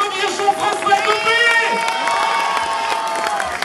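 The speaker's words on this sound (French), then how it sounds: "Je vous demande d'applaudir Jean-François Copé." A large crowd applauds and cheers loudly and continuously at the inauguration of a new town festival hall in Meaux, France, with whoops and shouts over steady clapping.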